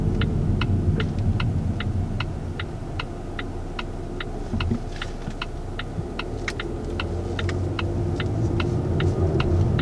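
A 2020 Volvo XC40 with the Polestar Performance package pulls away under light throttle, its engine a low, steady drone inside the cabin, with a rhythmic ticking repeating throughout.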